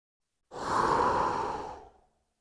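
A single deep, slow breath during a qi gong exercise, close and airy, rising smoothly for about a second and a half before fading out; no talking.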